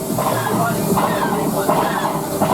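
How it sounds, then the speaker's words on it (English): A rumbling, hissing train noise rolls past with a rhythmic clatter on the Millennium Falcon: Smugglers Run theme-park ride, loud and continuous, with faint voices mixed in. "there is the train."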